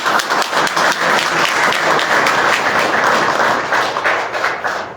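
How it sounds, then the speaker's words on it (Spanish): Audience applause at a posthumous tribute event for a journalist, loud and sustained clapping from a crowd filling the room, alone with no talk over it. "Se siente el aplauso para este dramatismo convertido en verso."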